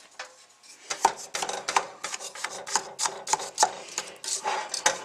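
A utensil stirs a quick caramel mixture in a pot, making a run of rapid, fairly close clinks and scrapes against the metal, steady and repeated with no voices.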